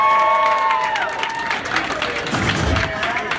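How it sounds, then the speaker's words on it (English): A crowd at a school fashion show gives a round of applause, mixed with cheering and chatter, a busy wash of clapping and voices at moderate distance. "I'm going to need a bigger round of applause"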